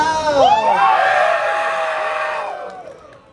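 A crowd of young voices shrieks and cheers together at Thailand Board Game Show 2025, loud at first, then gradually fading over a few seconds.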